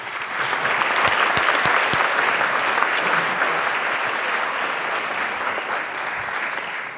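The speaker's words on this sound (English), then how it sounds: "Can we give another round of applause?" A university lecture-hall audience at an open forum claps steadily for several seconds, a dense, even wash of many hands with a few sharper individual claps near the start.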